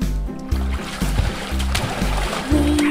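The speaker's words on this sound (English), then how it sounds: "One splash. Two splashes. Three splashes. Four splashes." Rhythmic water splashes from children playing outdoors, repeating at about half-second intervals over a song-like musical backing.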